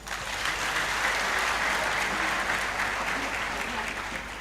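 An audience claps in sustained applause, a dense, even wash of many hands that stays loud from start to finish.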